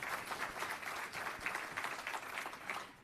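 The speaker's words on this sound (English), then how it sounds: "yes, that's an applause line" Steady, faint applause from the crowd at a state Democratic Party breakfast during the national convention, a continuous patter of many hands with no voices over it.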